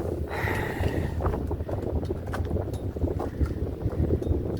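A moored boat floppily slapping against choppy, whitecapped waves ahead of a storm, a steady churning wash with wind buffeting the microphone throughout and no talking.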